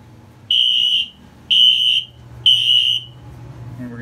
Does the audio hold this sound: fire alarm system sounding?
yes